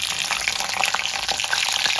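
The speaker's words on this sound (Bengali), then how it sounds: "এবার আমি ফোড়নটা দিয়ে দেবো কালো জিরে আর কাঁচা লঙ্কা" Black cumin and green chilies tempering in hot oil in a wok, a dense, continuous crackling sizzle with popping spatters, close and fairly loud, with no voices.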